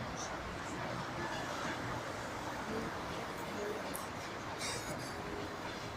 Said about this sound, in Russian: Ой, поезд навстречу.